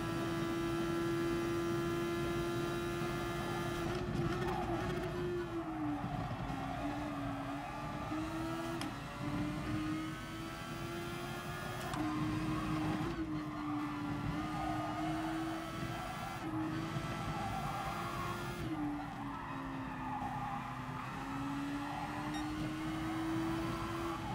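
Super Formula single-seater at Suzuka in GT Sport, a steady high engine whine held at near-constant pitch with gentle rises and falls through corners, sustained and close with no voices.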